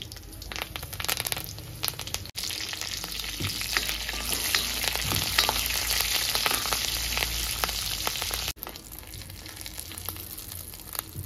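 Curry leaves and broken dried red chillies fry in hot tempering oil, producing a loud, continuous close sizzle with crackle that runs for about eleven seconds without speech.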